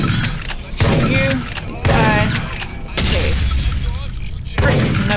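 Gunfire in the shooter game Dead Effect: a series of four heavy, loud blasts spaced about a second apart, each ringing out briefly, close and punchy.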